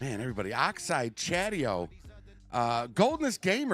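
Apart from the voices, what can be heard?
None of the usual background noises is heard.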